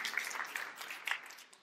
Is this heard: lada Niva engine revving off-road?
no